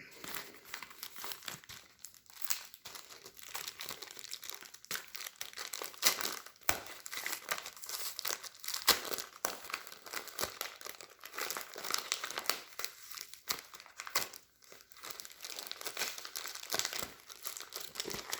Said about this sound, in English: I'm trying to just peel back the envelope